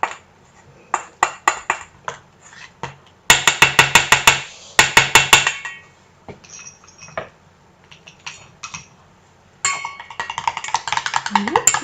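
A whisk beats dog shampoo paste in a bowl, producing bursts of sharp rapid clinking and tapping against the container, separated by short pauses and a few isolated knocks.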